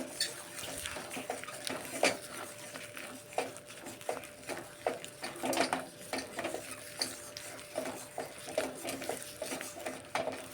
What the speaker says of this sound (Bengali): অনবরত নাড়তে হবে, তা না হলে নিচে লেগে যাওয়ার সম্ভাবনা থাকবে